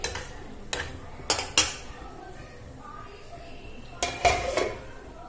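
A lid goes onto a pot of okra curd curry with potatoes, giving several sharp metallic clinks and clatters in two short bursts over a quiet kitchen background.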